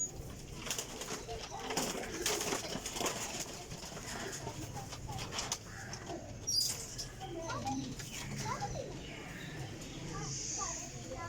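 Sialkoti flying pigeons coo softly and intermittently nearby amid rustling and a few faint squeaks, under quiet background noise.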